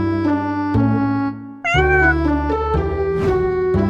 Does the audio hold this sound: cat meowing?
yes